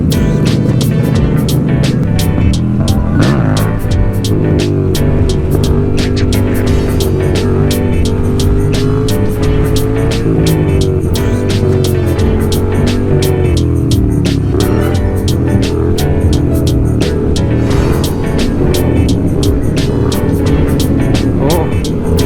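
A motorcycle on a group ride gives a loud, continuous engine drone with shifting pitch, heavy wind buffeting and other vehicles around, all sustained across the whole stretch.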